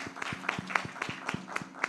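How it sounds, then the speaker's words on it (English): Congregation clapping for the Lord during a bilingual church service, a steady rhythmic beat of sharp claps at about two per second, moderately distant, with a low hum underneath. "Let's clap for the Lord."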